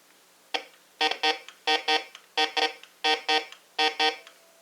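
A Bounty Hunter Tracker IV metal detector gives a series of loud electronic beeps, mostly in quick pairs with a single one at the start, evenly spaced and close, with no voices.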